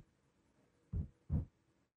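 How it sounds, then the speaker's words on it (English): Two low toms strike in quick succession, deep, soft thuds with a very fast decay, fairly quiet and alone. "the low toms, very subtle"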